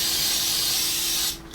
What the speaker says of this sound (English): I'm gonna spray this bowl with a little cooking oil